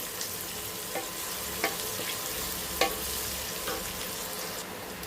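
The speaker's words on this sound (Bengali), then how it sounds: "এর সঙ্গে আমি দুটো কাঁচা লঙ্কা দিয়ে দিলাম আদা কুচনোটাও দিয়ে দিলাম আর এখানে রসুন কুচনোটাও দিয়ে দিলাম দিয়ে আবার এগুলোকে ভালো করে ভেজে নেবো" Chopped onion, green chillies, ginger and garlic frying in a pan give a steady, even sizzle throughout, punctuated by a handful of light spatula scrapes and taps, with no voices.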